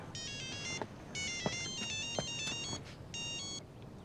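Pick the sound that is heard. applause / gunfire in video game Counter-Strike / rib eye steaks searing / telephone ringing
telephone ringing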